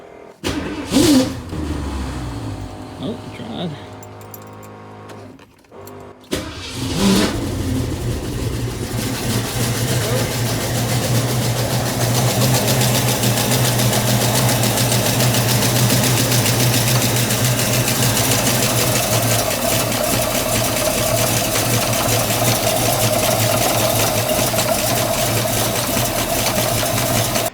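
A 1970 Ford Mustang Mach 1's V8 cranks briefly after years of sitting unused, then catches and settles into a steady, rumbling idle that runs on loudly, with a few spoken words near the start.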